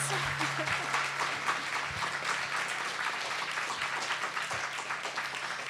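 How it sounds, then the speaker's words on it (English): Audience applause for a speaker at a university speaker-series event, sustained, even clapping from a seated crowd for several seconds, with a faint steady hum beneath and a voice briefly audible. "Can we have one more round of applause?"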